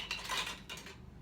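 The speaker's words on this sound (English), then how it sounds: "I've got a couple lids there stuck together." Metal canning jar lids clinking and scraping against each other as two stuck lids are pulled apart from boiling water, a short cluster of close, bright clatter.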